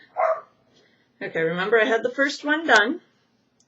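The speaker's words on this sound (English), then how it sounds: "Sorry for the barking." Dog barking at people passing outside, a short yip first, then a burst of several loud close barks, with a person talking over them.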